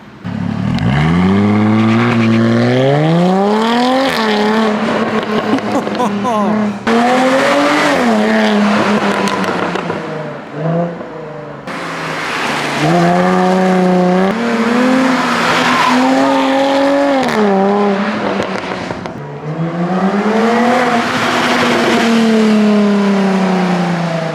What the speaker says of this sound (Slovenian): da slišimo še ta zvok avtomobila, ki gremim